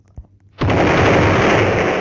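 A bomb blast in a Roblox hide-and-seek game, a sudden loud broadband roar that starts after a faint thump and keeps rumbling steadily, filling the rest of the moment with no voices over it.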